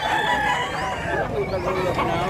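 A Hatch Hennie gamecock crows loudly and close by, one drawn-out cock-a-doodle-doo with other fowl calling around it in a busy outdoor setting in Mantalungon, Cebu.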